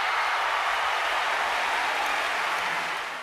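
Dense, steady audience applause at the Oscars as Cher wins for Moonstruck, a broad continuous wash of clapping filling the short span without pause.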